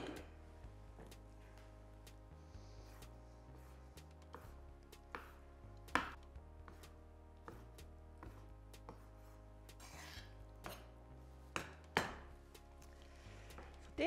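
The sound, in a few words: cutting salmon into small cubes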